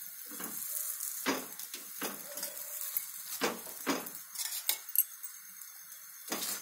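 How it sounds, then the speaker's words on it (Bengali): A masala paratha fries in oil in a pan over high flame, giving a continuous sizzle with repeated close scraping and clinks of a spatula against the pan. "আমি এটা তেল দিয়ে ভাজছি।"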